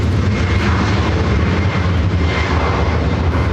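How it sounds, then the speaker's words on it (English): An Airbus A350-900 jet operated by Starlux, arriving from Taipei at Los Angeles airport, makes a loud, steady roar of engine noise. The sound is continuous and close, with no voices over it. "Starlux Flight 6, coming in from Taipei, and this A350-900."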